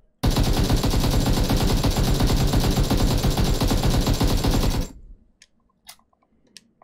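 Close, loud sustained automatic fire from an AKM rifle in a video game runs as a rapid, even stream of shots for nearly five seconds. It stops abruptly, and a few faint clicks follow in the near silence.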